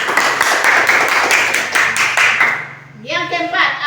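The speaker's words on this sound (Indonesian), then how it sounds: "berikan tepuk tangan buat teman kita" A classroom of children claps for a classmate, a dense run of hand claps lasting about two and a half seconds that ends, followed by someone speaking.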